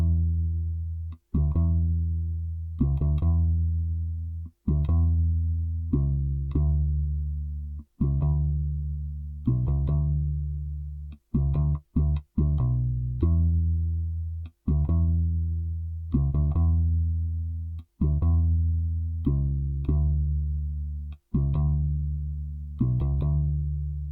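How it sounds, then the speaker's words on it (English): Modo Bass layered with a wah-filtered bass plays sustained root notes in a steady rhythm, each note restruck with a short gap, smooth and full with a vocal-like filter sweep, loud and alone without talking. "I added a bass from Modo Bass as well as a wah bass that I made by using a wah plugin"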